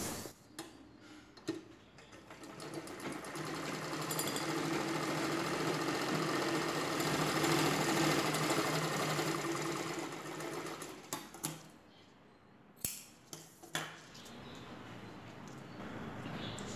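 A sewing machine stitches the folded edge of a saree blouse. It runs in a steady, loud whirring burst for several seconds, then stops and gives a few short runs and clicks.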